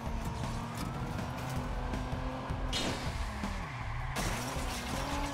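Car engine revving at steady speed in the video game Watch Dogs, with a tonal whine that dips and rises as the car skids and slides, continuous and close throughout.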